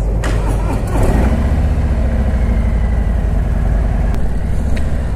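A 2019 Harley-Davidson Street Glide Special with a Milwaukee-Eight 114 engine rumbles steadily nearby, a deep, loud, uneven idle throb lasting throughout with a brief rev swell early on.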